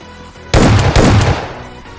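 Shotgun blasts in PUBG Mobile, two loud close booms about half a second apart with a ringing tail that fades, after a quiet lead-in.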